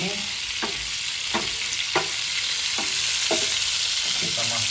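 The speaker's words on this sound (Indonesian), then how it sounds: "Kita tumis sampai setengah matang." Shrimp sauté in a frying pan, with a continuous sizzle under a series of sharp, rhythmic scraping stirs, about one every half second, close and clear with no talking.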